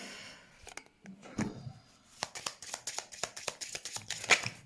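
Oracle cards are shuffled for a card reading, a close series of crisp riffling flicks and soft slides that speed up into rapid rhythmic bursts, with no speech.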